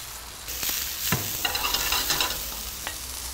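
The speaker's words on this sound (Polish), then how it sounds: "Na tej samej patelni, na której smażyliśmy kurczaka, dodajemy pociętą cebulę." Chopped onion sizzles and fries in a pan still holding the fat from cooked chicken, with a steady hiss and a few scraping stirs, close and fairly loud, no talking.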